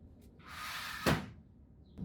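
Aluminum outdoor storage shed door sliding along a stiff, unoiled track: a brief scraping rush of metal ending in a sharp knock, fairly close, with a faint click afterward.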